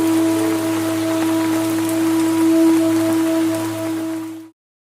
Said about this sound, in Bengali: সকাল থেকে একটানা বৃষ্টি